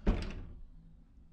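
A lit cabinet door in a Carnival Legend cruise ship cabin is opened, giving a single soft wooden thunk up close that quickly fades into quiet room tone.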